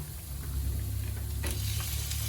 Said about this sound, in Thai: เดี๋ยวเราจะ นำหมูลงไปผัดให้สุกนะคะ